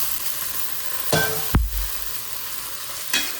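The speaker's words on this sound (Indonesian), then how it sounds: "Kita aduk." Noodles and mixed vegetables frying in a pan give a continuous soft sizzle, broken by a few scraping stirs and one sharp knock of the utensil against the pan.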